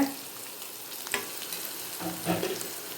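Beans and green chillies frying in a pan, a steady, close sizzle broken by a few sharp stirring scrapes and spatters, with no voices.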